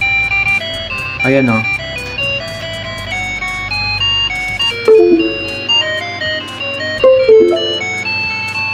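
A toy ATM coin bank plays a bright electronic melody of steady synthesized notes when its button is pressed, close and loud, with a person talking briefly over it.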